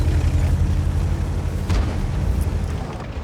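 A deep, booming tank cannon blast from a World of Tanks match, a single heavy low rumble that rolls on and slowly decays across the clip, loud and close.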